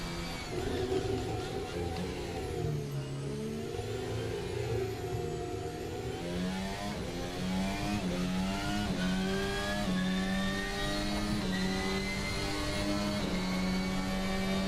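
An F1 car in a racing video game runs flat out with DRS open, its engine note loud and steady, climbing through the gears in rising harmonic sweeps with no voices over it.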